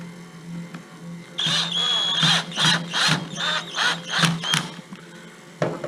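A Zip X5 gearbox runs while its top screw is tightened, giving a series of loud, rhythmic grinding and whirring bursts, roughly seven pulses in a row, over a low steady hum.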